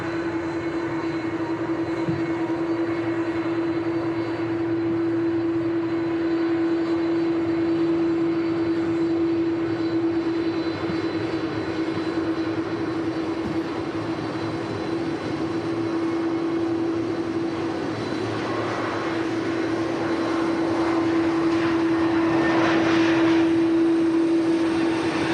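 A Turkish Airlines A321neo departing Manchester Airport gives a sustained, steady engine roar with a strong constant whine, building slightly louder toward the end.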